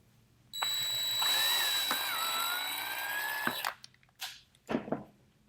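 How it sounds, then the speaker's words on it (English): Power drill boring a pilot hole for self-tapping screws while a GY6 scooter engine is assembled, a steady high whine held for about three seconds, then stopping, followed by a few short clunks and taps. "I'm going to go ahead and drill this first hole in."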